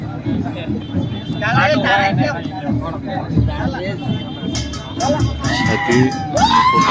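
A dense, lively crowd murmurs and shouts at an outdoor tribal cultural festival with market stalls. Overlapping voices, children's calls and occasional higher cheers sit close and continuous throughout, with talking nearby.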